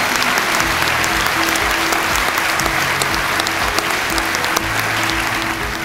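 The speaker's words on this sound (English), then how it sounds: "Let's give that a round of applause." Crowd at the Craft Academy 2019 graduation ceremony gives a loud, continuous round of applause that stays full and even for several seconds, with faint cheering mixed in.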